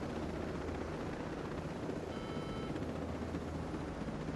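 A helicopter in the video game Ghost Recon Breakpoint flies with a steady, low rotor thrum and engine drone, continuous and fairly quiet, with a faint high tonal whine briefly layered midway.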